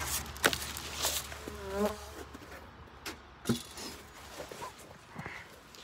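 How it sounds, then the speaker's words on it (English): Honey bees buzzing around an open hive during a spring inspection, a faint, wavering drone with close passes rising and fading, joined by scattered handling knocks. "see a bunch of bees down there"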